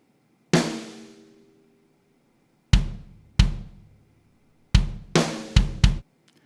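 Programmed drum groove in a music production: sparse, punchy hits with decaying tails, a single hit, a pause, then two beats and a quicker cluster of four near the end, dry and upfront with no talk.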